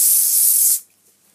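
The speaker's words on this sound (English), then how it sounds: "give the hair a spray, like in one section" Hairspray sprayed onto a section of hair from an aerosol can, one loud, close, continuous hiss that stops abruptly after under a second, leaving near silence.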